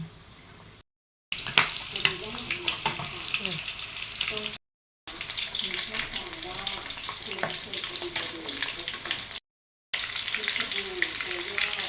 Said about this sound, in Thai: ทอดไฟค่อนข้างอ่อนกว่านะ